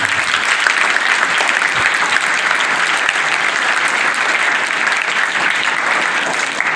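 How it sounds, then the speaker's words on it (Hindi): A large group of children clapping loudly and steadily for good management, a dense sustained applause filling the whole stretch with no break. "प्लीज इस अच्छी मैनेजमेंट के लिए एक बार जोरदार क्लैपिंग"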